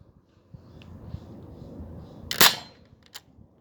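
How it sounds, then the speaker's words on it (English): A SupaSplat paintball gun fires once outdoors, a single sharp crack that stands out against quiet surroundings, with a few softer handling clicks before and after. "Let's shoot it."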